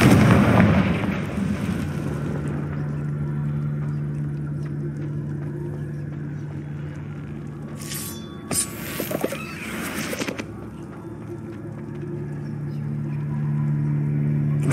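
The Confringo explosive spell cast in a cave in Hogwarts Legacy: a loud fiery burst at the start that decays into a low hum, followed later by a couple of sharp crackling impacts.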